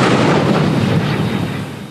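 Destroyer gunfire shelling the wrecked cargo ship New Carissa off the Oregon coast, a heavy rumbling boom with a long rolling decay that fills the whole clip, loud and distant-sounding, with no voices.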